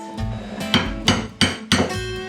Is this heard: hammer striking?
yes